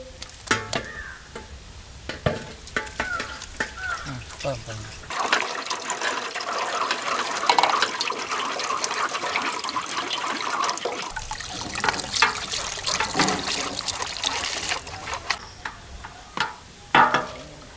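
Juice from pressed grapes trickling and splashing steadily for several seconds, with wetter, fuller pouring in the middle stretch and scattered clicks and handling knocks around it, close and alone without talk.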